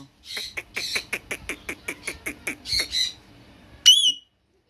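An Alexandrine parakeet gives a quick run of harsh, raspy chattering calls, then one loud, sharp squawk near the end before falling silent.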